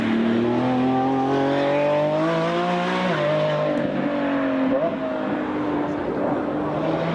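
A Lamborghini engine revs in Forza Motorsport, a loud, steady multi-toned drone whose pitch climbs, dips sharply near the middle, then holds again, with tire noise underneath and no talking.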